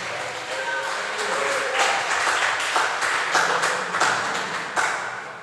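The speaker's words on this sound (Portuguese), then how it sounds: "Dê um aplauso e glorifique o nome do Senhor." Church congregation applauding during a service, a loose spread of many claps that swells and holds, moderately loud, with voices talking and calling out underneath.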